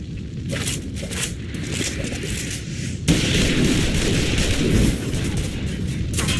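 Gunfire rattles through a Final Fantasy XIV cutscene in a dense, continuous barrage of shots and booms that intensifies midway, loud and close with no pauses.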